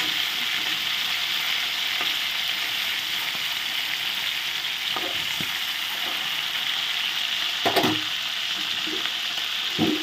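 Fish sizzling steadily in hot oil in a pan, a dense continuous crackle and hiss with a few sharper pops and spatters, close and loud, with no talking.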